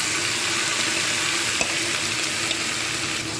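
Garlic paste frying in a pan before banana flower goes in, a dense steady sizzle with a couple of faint clicks from stirring.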